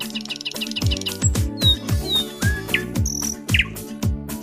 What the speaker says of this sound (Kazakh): Бұлбұл.